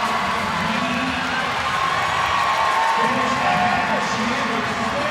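Crowd cheering and shouting fills an arena at the CrossFit Games during a men's inverted medley event, a dense, steady roar under a commentator's voice.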